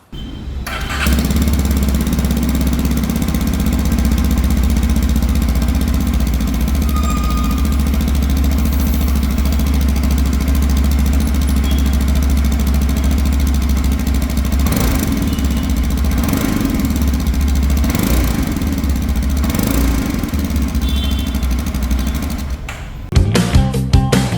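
A 2025 Yezdi Adventure motorcycle engine idles steadily and loudly at close range, a continuous low rumble with occasional slight revs, ending in a few knocks.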